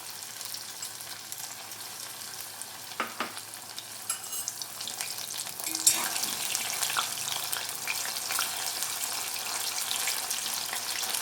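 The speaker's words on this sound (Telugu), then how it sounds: "ఇప్పుడు మనం ఈ ముక్కల్ని ఫ్రై చేసుకోవాలి" Flour-coated paneer pieces fry in hot oil. A soft sizzle with a few clinks swells into a louder, fuller bubbling hiss about halfway through as more pieces go in.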